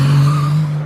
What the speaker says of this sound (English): As that Triumph Special just squealing the tyres a little bit there